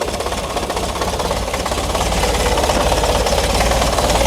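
A classic Volkswagen Scirocco engine idles roughly with a massive air leak, a rapid, uneven knocking pulse that grows slightly louder and steadier, loud and close, no talking.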